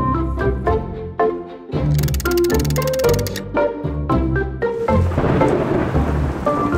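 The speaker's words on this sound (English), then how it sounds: "It looks like a storm is brewing." A thunderstorm brews over a vegetable garden, with rumbling thunder and rain heard beneath a bright, playful musical score in a children's cartoon.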